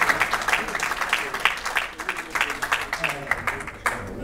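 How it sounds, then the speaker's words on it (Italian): Audience applause for the volunteer subjects at a hypnosis show in Suzzara, a steady patter of many hands clapping at moderate volume, with voices mixed in. "facciamo un applauso intanto per i soggetti."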